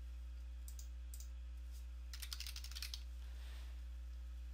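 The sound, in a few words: typing on computer keyboard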